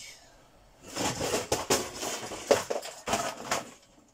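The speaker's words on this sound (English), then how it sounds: "Don't mind all that crashing noise. That's how many small kits that I have there on top of each other. They're all falling down." A pile of small plastic scale model car kits tumbling down, giving a run of clattering, crashing knocks and thuds over about three seconds, close and moderately loud, with no talk.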